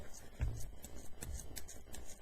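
Scissors trim away excess bulk from a piece of wet felt, making two faint, quick snips about a second apart against a quiet background.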